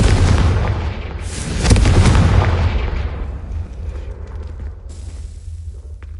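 A Confringo fire spell blast in the Hogwarts Legacy video game, a loud booming burst that rumbles and decays over several seconds with crackling tail.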